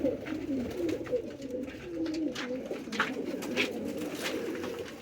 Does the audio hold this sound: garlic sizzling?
no